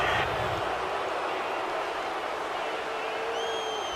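A stadium crowd in the American football video game Madden NFL 19 reacts to a roughing-the-passer penalty with a dense, steady roar of voices, loud and unbroken throughout, with no clear individual voices standing out.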